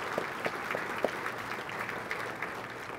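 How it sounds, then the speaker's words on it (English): An audience applauds a congressman at a Texas congressional district address, steady clapping from a hall crowd with a few sharper individual claps standing out and no voices over it. "So we'll give him a round of applause"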